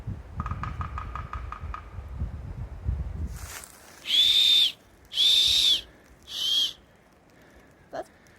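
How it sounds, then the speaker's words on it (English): Someone blows a whistle on an acorn cap outdoors on a steep hiking trail, producing three loud, shrill blasts after some rustling and handling noise. "Acorn whistle. That's our SOS call."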